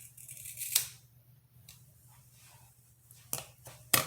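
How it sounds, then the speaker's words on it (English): Scissors snip through natural hair in a few sharp, close cuts, two clusters near the end and one early, over a low steady hum in an otherwise quiet room. "Scissors in hand, we are going to cut this."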